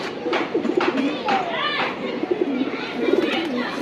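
Tournament racing pigeons coo softly in a series of short, repeated calls close by, mixed with bird sounds and people talking nearby.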